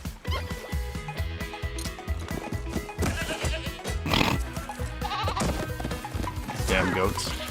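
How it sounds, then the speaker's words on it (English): Goats bleat in the Minecraft Caves and Cliffs update, heard amid dense in-game music and sound effects, with several short bleats standing out against the steady background mix. "Damn goats."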